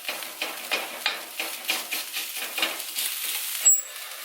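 Sausage meat mixed with flour sizzles in a pan while a utensil mashes it, giving a soft frying hiss broken by rhythmic scraping strokes and ending in a brief metallic clink.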